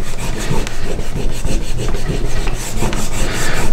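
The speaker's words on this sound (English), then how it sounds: "I'm going to take the corner of the paste, I'm just going to abrade it into the leather" Stropping paste worked hard into the rough side of a leather strop, a loud, continuous rasping rub with quick, even back-and-forth strokes close up.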